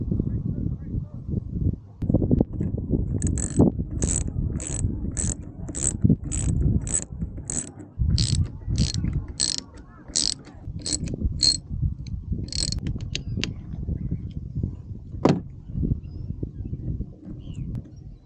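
Electric trolling motor, a 24-volt unit with broken magnets, spinning on a 12-volt battery, giving a rapid regular ticking and whirring rhythm close by over a steady low mechanical hum, fading out toward the end.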